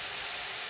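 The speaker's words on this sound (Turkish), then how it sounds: "Yavaş yavaş şerbetimizi katalım." Sugar syrup poured slowly onto hot fried semolina for milky semolina halva, giving a steady, close, bright sizzle and hiss that runs unbroken with no talking.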